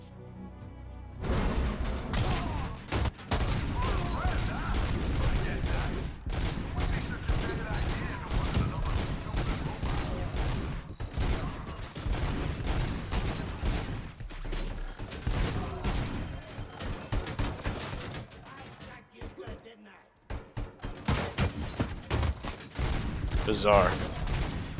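Rapid gunfire rattles almost without pause through a RoboCop video game fight with ED-209, loud mechanical bursts and impacts filling the scene, while a voice briefly speaks over the shooting.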